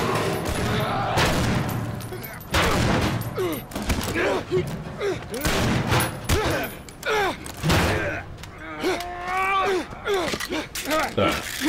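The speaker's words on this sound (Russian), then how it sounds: "Выстрел в бронежилет." Escape from Tarkov gunfire: scattered sharp shots and bursts, including a shot hitting body armour, mixed with thuds and mechanical clicks, while a voice talks in Russian over the action.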